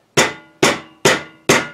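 A rubber mallet strikes a VW Notchback pop-out window seal into its frame: four evenly spaced, sharp thuds, close and loud, with nothing else heard.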